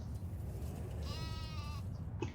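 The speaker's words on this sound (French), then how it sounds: "Là, on a les moutons, donc vraiment pas mal les moutons." A sheep in the farming game Farming Simulator 15 gives one drawn-out, wavering bleat, fairly faint over a constant low rumble of game ambience.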